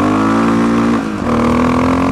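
Honda XR650L motorcycle engine revving loudly and close, a steady high-rpm roar that dips briefly and then climbs again, with no talk.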